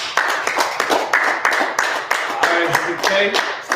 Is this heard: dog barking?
no